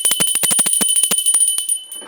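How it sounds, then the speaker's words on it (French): A small handheld bell rings in a quick run of about a dozen bright, close strikes, loud and alone, then fades out after the last few slower rings. "Voilà, c'est les cloches."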